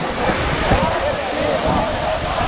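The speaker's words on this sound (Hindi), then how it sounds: "ये देखो पीछे मेरे दूधसागर वाटरफॉल" Rushing water from Dudhsagar waterfall on the Goa–Karnataka border, heard as a steady, loud broadband roar that stays even from start to finish, with some wind buffeting the microphone.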